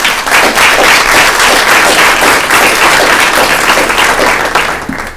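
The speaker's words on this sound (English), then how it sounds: "So big round of applause to them" A large crowd applauds loudly and steadily at a student government meeting, dense clapping sustained throughout before beginning to taper at the very end.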